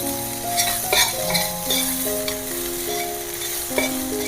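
Chicken liver roast sizzles and fries steadily in a pan, with green chilies added and occasional stirring clinks and scrapes over a constant crackle.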